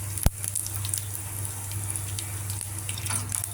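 Urad dal, cumin and mustard seeds sputter in a spoonful of hot oil for a tempering. A steady crackling sizzle runs throughout, broken by one sharp knock near the start and scattered small pops.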